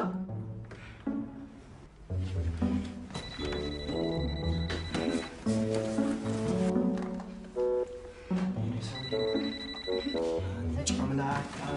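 A mobile phone ringtone chimes in two bursts over music-like background sound and voices, with bright repeating tones near the start and again toward the end.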